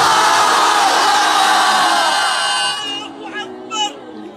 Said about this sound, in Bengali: আমার প্রিয় সিঙ্গেল ভাইরা তাকবীর দেন